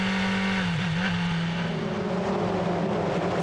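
Formula 4 race cars at Brands Hatch roar steadily through the circuit, a loud sustained engine drone with a brief pitch dip and overlapping whine from several cars close together.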